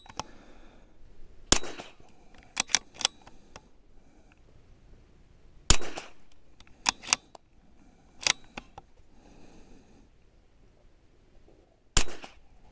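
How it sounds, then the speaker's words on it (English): Five sharp, close .22LR rifle shots fired one at a time at uneven intervals, each a brief crack standing alone against a quiet background. "let's get the first 5 shots out of this thing"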